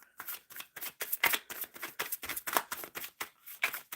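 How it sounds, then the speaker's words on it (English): Tarot cards being shuffled by hand in a steady run of crisp riffling slaps and flutters, close and fairly quiet, with no talking. "so shuffling for Marie or Mari and Lewis's energy"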